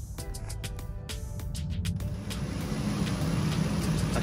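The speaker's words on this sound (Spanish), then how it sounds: "Aquí podemos ver de que el carro ya está prendido, ahí está todo trabajando" A 2005 Nissan Frontier 4.0L engine idling after a timing chain replacement, a steady low rumble with a few sharp ticks and clicks early on, close and continuous throughout.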